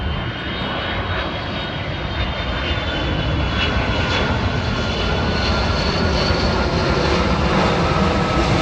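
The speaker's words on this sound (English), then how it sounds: "Next up is an airline I haven't seen at all today, United Airlines. 767 from San Francisco." United Airlines Boeing 767 jet arriving from San Francisco roars loudly and steadily overhead, a broad, dense engine rumble with a faint high whine that holds for the full span.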